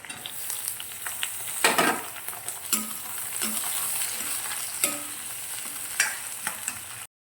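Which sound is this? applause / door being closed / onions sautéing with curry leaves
onions sautéing with curry leaves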